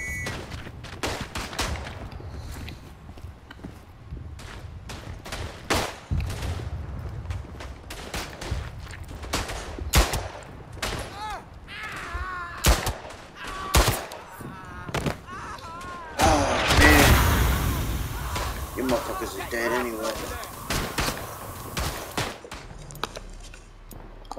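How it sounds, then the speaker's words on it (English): Artillery and rifle fire in the Verdun World War I video game: rapid, irregular cracks and booms throughout, some heavy blasts near the middle, with shouting voices in the mix. "Hit them with the artillery!"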